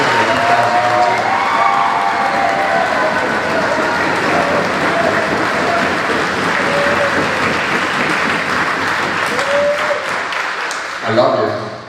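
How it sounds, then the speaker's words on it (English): Loud, sustained audience applause with cheers and whoops fills a hall at a pro wrestling Hall of Fame induction ceremony, a dense steady roar of clapping and crowd noise lasting throughout before tapering off at the end. "clap loud"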